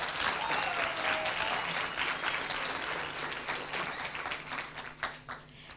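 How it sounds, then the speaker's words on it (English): Sustained audience applause fills a hall at a World Intellectual Property Day celebration, dense steady clapping from a large crowd that gradually thins toward the end. "Let's give them a round of applause."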